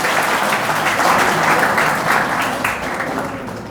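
Loud audience applause greets a garlanded guest at a coaching institute's felicitation of a newly selected history lecturer, a dense, sustained wash of clapping that thins and fades toward the end.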